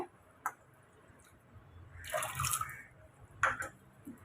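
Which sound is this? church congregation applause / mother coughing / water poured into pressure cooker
water poured into pressure cooker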